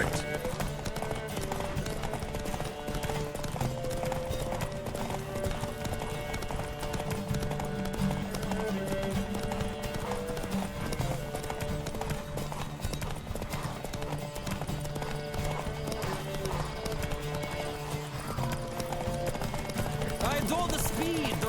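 Galloping horses race in The Witcher 3, their clip-clopping hooves drumming steadily and loudly throughout, layered under a constant music score and voices talking.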